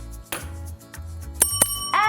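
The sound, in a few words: bell being rung to start class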